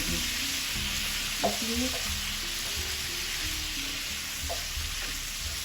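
Kaleji (liver) with turmeric fries in a pan, giving a constant close hiss and crackle with occasional stirring scrapes, while a voice briefly speaks over it.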